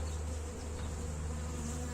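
Honeybees drone steadily at an open hive during a colony inspection, a dense continuous buzz close by with no talk over it.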